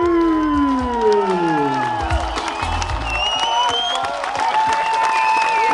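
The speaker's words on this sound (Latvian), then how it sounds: "Aplausi!" An audience at a dance event breaks into loud, sustained applause with cheering and whoops, mixed over continuous music close by.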